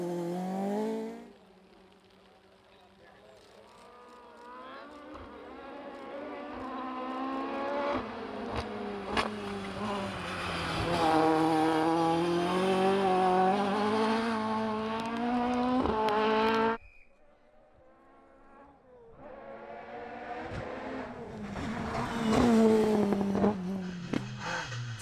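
A Toyota Corolla twin cam rally car races along a wet stage, its engine rising and revving hard as it nears and passes, then cutting off before another climb of engine noise at close range.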